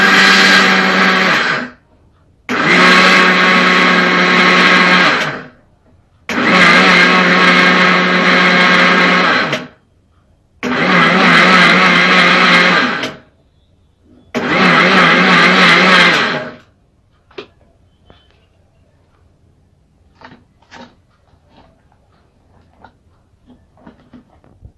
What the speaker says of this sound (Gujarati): ઓકે, હવે આપણે આને ગ્રાઇન્ડ કરી લઈશું